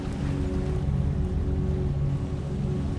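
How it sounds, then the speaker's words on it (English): A ferry's engine hums low and steady under the continuous wash of water moving along its hull, a constant close rumble with no breaks. "The engine hum remains low and consistent, blending with the movement of water along the hull"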